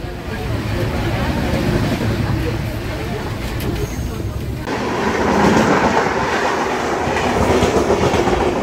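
A diesel locomotive-hauled express train runs at speed, producing a loud, continuous rumble and rhythmic wheel clatter that swells midway, with a voice heard faintly alongside.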